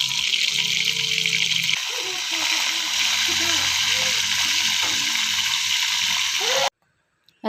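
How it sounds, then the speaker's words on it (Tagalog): Fish frying in hot oil in a pan gives a loud, steady sizzling hiss that runs nearly unbroken, then cuts off abruptly into silence near the end. "mainit ng mantika sa kawali kaya ilalagay na natin yung isda"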